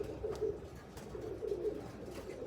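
Pigeons coo softly in low, throaty phrases, two rounds of cooing close by against a faint background hiss.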